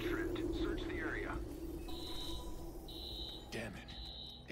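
An alarm trips in the Watch Dogs video game, a repeating electronic tone sounding in short steady bursts, preceded by overlapping voices and game ambience.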